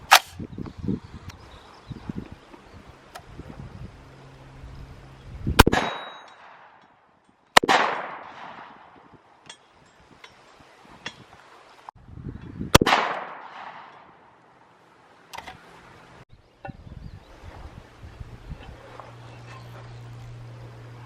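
Four sharp rifle reports of steel-cased 7.62x39 147-grain full metal jacket rounds, spaced a few seconds apart, some striking an AR600 Level III+ steel body armor plate, each crack followed by a short ringing decay outdoors.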